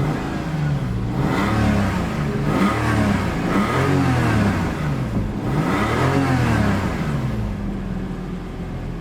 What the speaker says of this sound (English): let's give it a couple of revs